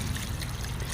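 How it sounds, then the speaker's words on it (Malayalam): Water poured into a pot of village-style fish curry with native masala, a steady broadband trickling and splashing heard close and alone for the whole moment, without pause. "നമുക്ക് ഇതിലേക്ക് ആവശ്യത്തിനുള്ള വെള്ളം ഒഴിച്ച് കൊടുക്കട്ടെ."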